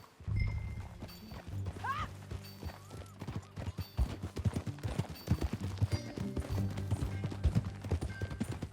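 Rhythmic hoofbeats clip-clop steadily as a horse moves along in the video game Red Dead Redemption 2, with a brief whinny early on and low rumbling ambience beneath.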